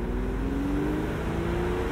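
An Aston Martin DB7 Volante sports car idles with a low, steady rumble and faint burbling from the rear exhaust, continuous and close.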